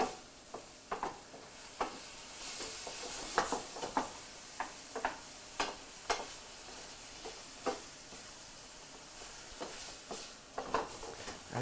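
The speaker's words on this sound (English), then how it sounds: "And stir that in." Taco seasoning is stirred into food in a frying pan, a spoon scraping in repeated irregular strokes over a steady quiet sizzle, close up with no talking.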